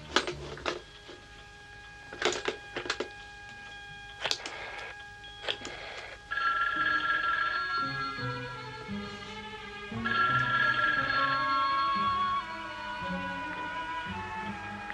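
An old-style telephone rings unanswered in an Italian Ellery Queen TV drama, repeated ringing bursts over a busy background of music and room noise, with no voices.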